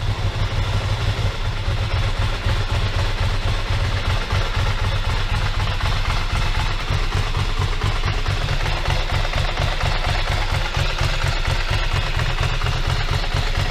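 A Ducati ST2 motorcycle engine idles on the low side during a first start after restoration, a steady close, loud throbbing beat with mechanical clatter running throughout.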